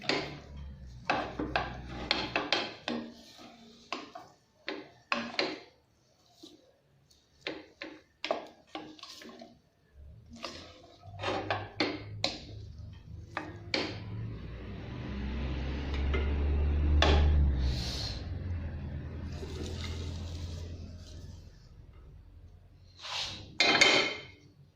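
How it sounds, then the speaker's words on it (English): Spaghetti being stirred and tossed with meat in a pan, giving a run of scraping, rubbing clatters of utensil against pan, with a louder steady patch of mixing midway, close and moderately loud, no voice. "There, I have mixed the pasta"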